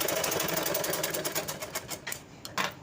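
Sewing machine running a straight stitch along a half-inch folded edge of blouse lining: a steady, rapid, close mechanical whirring and clatter throughout, without speech.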